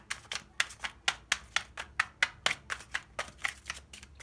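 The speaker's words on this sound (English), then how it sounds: "This deck is always so hard to shuffle." A stiff deck of tarot cards being shuffled by hand, a close run of sharp riffling snaps in an uneven rhythm, about a dozen bursts with no talking.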